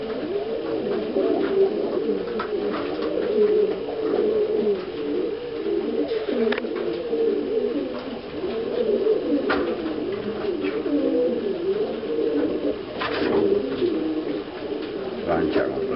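A pigeon coos in low, repeated rounds outdoors, the soft throaty calls running steadily on and off for the whole stretch, with a few sharper sounds popping up now and then.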